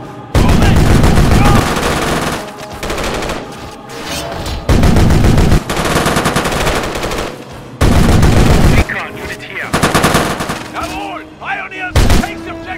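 Loud automatic gunfire in the Modern Combat Remake video game, heavy bursts of rapid shots repeating with short gaps, close and dominant, with voices briefly in the background.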